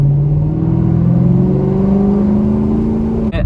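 A rebuilt Chrysler 300 SRT8 with the 392 V8 revs hard and close, holding a loud, steady, slowly climbing engine note before a brief sharp pop near the end.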